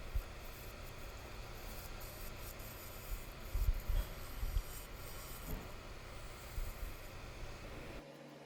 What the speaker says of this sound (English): So just attempting to balance it up or true it up here with the Carter and Son bowl gouge